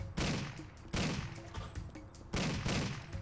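Gunfire in the driving game Driv3r: a few heavy, booming shots spaced apart, each followed by a short ringing decay, loud and close with no talk over them.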